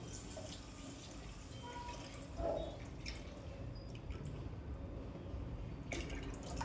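Buttermilk poured into a besan mixture for a brinjal, fenugreek and green onion kadhi gives a steady, close liquid pour with a brief splash partway through.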